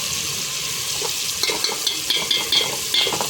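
Red chili powder goes into a pan of hot oil with turmeric and a little water while a fish curry is prepared. It gives a steady broadband sizzle with light stirring clicks and scrapes through the middle.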